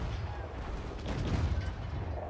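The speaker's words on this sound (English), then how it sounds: "I wonder if they're shooting at a ship." Distant cannon fire booms against a ship at sea in Assassin's Creed IV: Black Flag, a continuous low rumble of artillery that swells slightly midway, with no distinct individual shots standing out.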